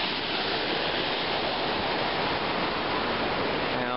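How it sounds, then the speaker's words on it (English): Temperance River rushing under a bridge in a state park near Lake Superior, a steady loud broadband roar of flowing water throughout with no pauses or speech. "this is the end of Temperance River. On a bridge that goes over it right now."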